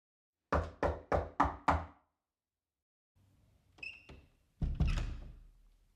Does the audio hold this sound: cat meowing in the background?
no